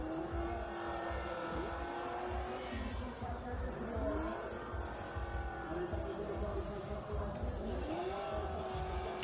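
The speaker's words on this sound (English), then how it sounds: "Our cars are back in the box warming up their tires" Formula Drift cars in Montreal idle and rev in the starting box to warm their tires, a continuous dense engine drone with rising and falling pitch sweeps, loud and steady throughout, with a commentator talking over it.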